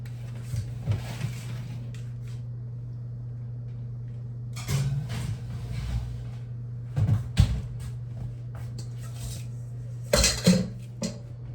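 Metal pizza pans clatter and knock as they go back into a home oven while veggie pizza bakes. Several separate bumps and scrapes are spread over the stretch above a steady appliance hum, with no talking.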